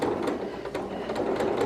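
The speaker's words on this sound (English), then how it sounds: "when I'm doing ruffles, I just sew right over the pins" Close, steady whir of a sewing machine stitching ruffles over pins, with light rhythmic ticking from the needle through the short run.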